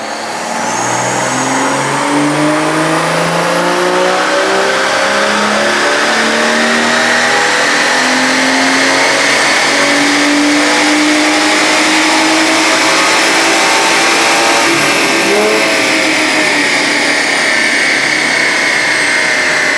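A BMW 340 with a B58 engine, stage 2 plus tune, revving on a dyno pull: one long continuous loud roar climbing steadily in pitch through the gears, close and unbroken for about twenty seconds.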